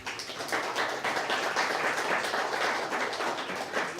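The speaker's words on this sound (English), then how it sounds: "Give them a round of applause, guys." An audience at a business presentation applauds, a dense, even roar of many hands clapping that holds steady for the whole stretch with no voices on top.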